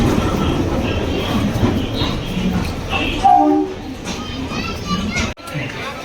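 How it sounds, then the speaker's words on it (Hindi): Delhi–Kalka Shatabdi express (train 12005) pulling into a busy station platform, its rolling rumble steady across the clip beneath a crowd's chatter and children's voices, with a brief louder swell midway. "ट्रेन सामने से आ रही है, दिल्ली कालका शताब्दी ट्रेन नंबर 12005।"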